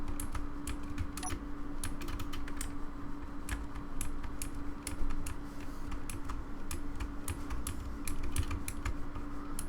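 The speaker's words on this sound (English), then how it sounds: "Probably hear the clicking on my keyboard" Computer keyboard keys clicking in irregular bursts of quick taps during Space Engineers play, close and fairly quiet over a constant low hum.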